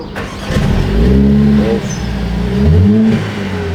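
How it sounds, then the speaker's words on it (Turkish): An Audi A5 in metallic midnight red fires up from its push-button start, the engine catching with a loud close rev that rises, settles briefly, then swells again before easing toward idle. "Frene bas çalıştır"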